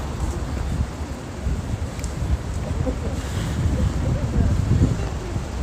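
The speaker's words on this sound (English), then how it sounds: "It's getting windy as hell." Strong wind buffets the microphone at night in Shinjuku, Japan, with a continuous low rumble and gusty roar throughout.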